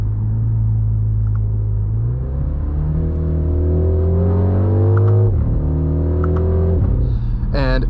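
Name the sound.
MINI Countryman JCW enhanced engine sound with fake pops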